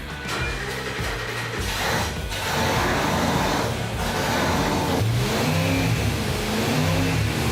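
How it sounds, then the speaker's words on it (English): A loud AMC 401 V8 racing engine revving hard at full throttle again and again, its pitch climbing and falling in repeated bursts up close. "Why do you keep giving it full throttle?"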